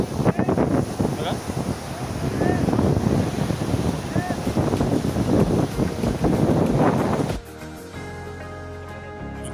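At Arambol beach in Goa, strong wind roars against the microphone over a broad wash of surf, then cuts abruptly to a quieter steady hum.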